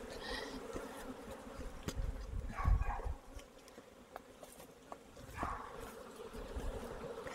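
Honeybees buzz steadily around a hive in a treatment-free beekeeping yard, a close, continuous droning hum with a few louder passes by individual bees and no talk.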